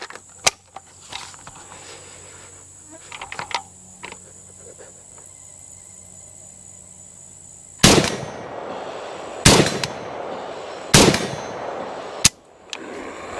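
A Zastava ZPAP85 rifle fires four loud, sharp shots spaced a second or two apart at an IPSC target outdoors, each crack ringing briefly, preceded by quiet handling clicks and faint insect chirps, with no talking.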